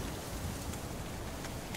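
Rain falling in The Witcher 3, a short steady hiss of downpour with scattered drop patter, constant and fairly close.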